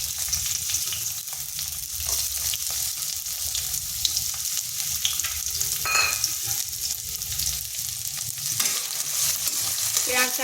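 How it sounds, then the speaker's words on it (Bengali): Sliced onions frying in oil in a pan give a steady, dense sizzle that runs unbroken from start to finish, with faint stirring scrapes now and then and no voices. "পেঁয়াজটা হালকা ভেজে নিচ্ছি।"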